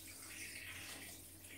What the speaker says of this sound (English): I go add more water now.